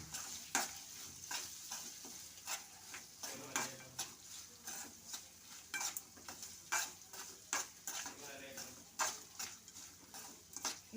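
Spoon scraping and stirring grated raw mango into a chitranna mixture in a pan, a quiet sequence of regular clinks and scrapes with brief pauses, close up.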